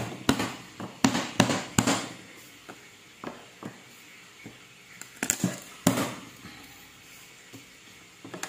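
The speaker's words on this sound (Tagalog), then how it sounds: "We're going to mince this garlic." A knife mincing garlic cloves on a board gives irregular sharp chops, some in quick clusters and others spaced apart, fairly close with quiet pauses between.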